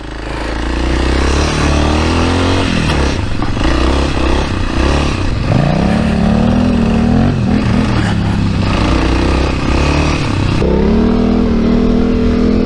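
A Yamaha Tenere 700 motorcycle revs hard in a sand pit, its loud engine rising and falling through repeated throttle bursts with clattering and scraping mixed in.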